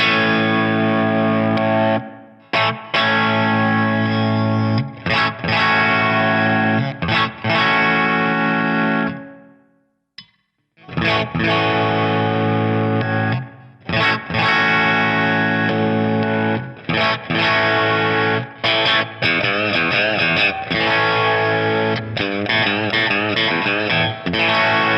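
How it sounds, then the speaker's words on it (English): An Epiphone Les Paul Classic electric guitar on a split humbucker plays a distorted riff of chugging chords and short bursts, loud and upfront, broken by brief gaps and one longer pause, with no voices. "So if you were to play that riff in humbucker, if you split it, very nice."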